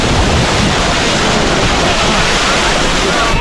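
Bandaje waterfall in Dakshina Kannada roars as a steady, loud, unbroken rush of falling water, heard close with no voices.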